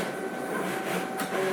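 A Cricut Venture cutting machine at work on a poster gives off a steady whirring, buzzing drone with a faint higher whine, continuous and close, with no pauses.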